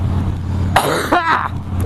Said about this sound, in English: don't cough inside your helmet